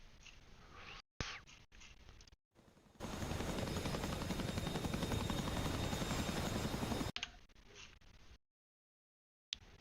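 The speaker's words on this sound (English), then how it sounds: "he's up in the Mi-8 here, heavy lift aircraft" Mi-8 heavy-lift helicopter in a multiplayer military video game, a loud steady rotor and engine roar lasting several seconds, framed by bursts of quieter game noise and brief silences.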